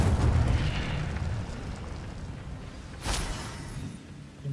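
An Incendio fire spell erupts in Hogwarts Legacy as a loud, rumbling burst of flame. The roar fades and then flares again with a sharp crack near the end, with no voices.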